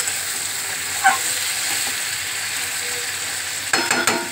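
Mutton sautéed with oil and spices in a kadai produces a steady, moderately loud sizzle, with a couple of scraping stirs near the start and a burst of stirring clatter toward the end.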